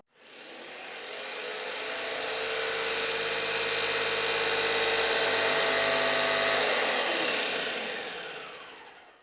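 Paint sprayer with a nozzle clogged by dried paint, pumping paint against the side of a can: a steady motor roar and hiss that builds within a second, holds for several seconds, then tapers off. No talking.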